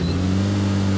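A vehicle engine in a video game hums loud and close, a steady low-pitched drone running without a break.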